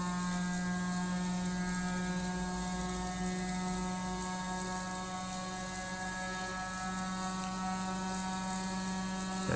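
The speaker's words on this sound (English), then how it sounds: "So it's getting up to speed now." A gyroscope's electric motor spins up toward roughly 8,000 to 9,000 RPM, giving a steady, loud whirring hum with sustained tonal lines and a faint mechanical ratcheting texture throughout, with no voices.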